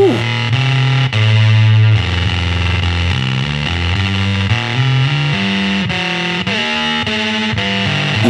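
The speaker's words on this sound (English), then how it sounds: "You definitely have some bit crushing mixed into that fuzz sound." Guitar through a square wave fuzz pedal in mode B with bit crushing, harsh buzzy gated tones playing a melodic line, loud and alone with no talk.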